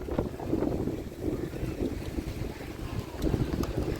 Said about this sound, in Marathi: असला वारा सुटलाय मस्त गारगार